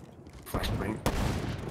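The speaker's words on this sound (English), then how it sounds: "Flashbang." Flashbang grenade going off in Black Ops 3, a sharp burst followed by a second loud crack a half-second later, close and loud amid game noise with voices talking.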